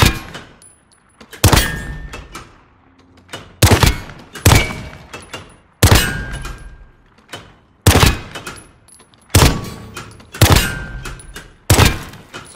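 Single gunshots ring out one after another at a shooting range in Call of Duty: Modern Warfare, loud, close sharp cracks spaced roughly a second or two apart, each trailing a short decay with faint metallic tones between.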